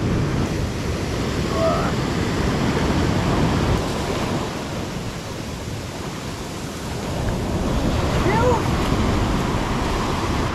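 Ocean surf washes steadily onto the shore near a spot where crayfish are caught and cooked, a dense continuous roar with wind buffeting the microphone.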